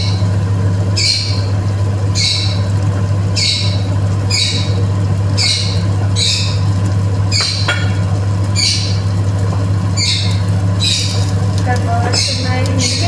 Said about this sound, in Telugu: బర్డ్స్ ఉన్నాయి, ఇంకే బర్డ్స్ అరుస్తున్నాయి